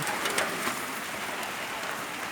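Steady night rainfall patters on surfaces in a dense, even hiss, with occasional slightly louder drops, no voices.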